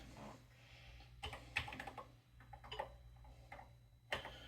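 Faint, close keystrokes on a computer keyboard while writing assembly code on an Atari 8-bit machine, scattered clicks in irregular bursts over a low background hum.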